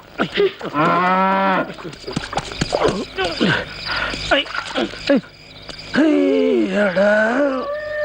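A cow moos several times, long drawn-out calls close by, separated by gaps filled with other voices and noises.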